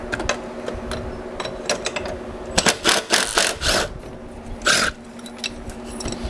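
A socket wrench ratchets and clicks while bolts are worked loose on a 2002 gas EZGO TXT golf cart, with irregular clustered bursts of metallic clicking up close and a steady low hum underneath.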